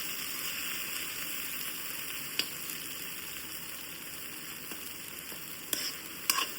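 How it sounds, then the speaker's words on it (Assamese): Brinjal and potato fry sizzles steadily in a pan as it is stirred, with a constant close frying hiss and a few small scraping clicks near the end and no voices. "বেঙেনা আলু ভাজি এখন বনালোঁ"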